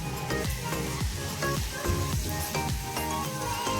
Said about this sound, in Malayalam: നമ്മുടെ അരി ഇവിടെ തിളക്കുന്നുണ്ട് കേട്ടോ.